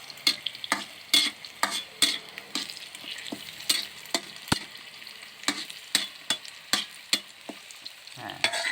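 Eggplant frying in a pan for a crispy Thai-style omelette, a steady hiss of oil broken by a string of sharp stirring scrapes and clacks against the pan, close and fairly loud, with no voices.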